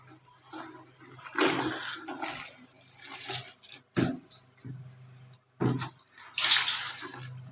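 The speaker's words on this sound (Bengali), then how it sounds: "এই দেখেন জুতা ধুইছি ব্রাশ দিয়ে" Shoes scrubbed with a brush under running water, splashing and gushing in uneven bursts with short pauses between, close and fairly loud.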